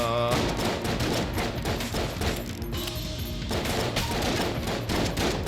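Rapid small-arms fire from a companion's tiny bullets in Enter The Gungeon, a dense, continuous crackle of shots running throughout over busy game music and effects.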